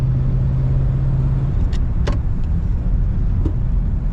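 A 1941 Cadillac Series 60 Special Fleetwood drives on dry roads, heard from inside as a steady low engine and road rumble with a few faint clicks and a short hum fading early.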